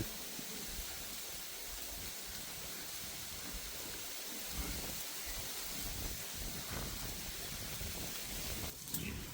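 Heavy out-of-season rain falls steadily in rural Thailand, a dense continuous hiss of drops on surfaces at moderate level, with a brief louder splash near the end.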